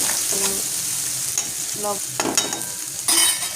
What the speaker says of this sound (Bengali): এখন কদু শাক ভাজি করবো।